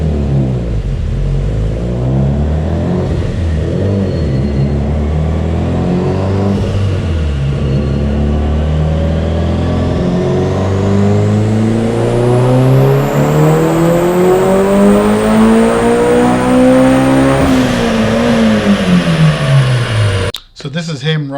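A Mitsubishi Evo 8 with a BorgWarner EFR 706 turbo, Wiseco pistons and I-beam rods revs hard through rising gear pulls, loud and close, with shifts and a roaring climb before an abrupt cut near the end, with a voice talking over it.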